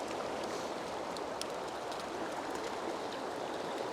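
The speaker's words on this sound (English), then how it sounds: "I've got soft water along the edge of this fast ripper current that's coming down from the area above" Fast river current swollen by snowmelt runoff rushes steadily in a dense, unbroken roar, close and loud, with no voices over it.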